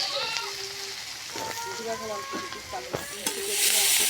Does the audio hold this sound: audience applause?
no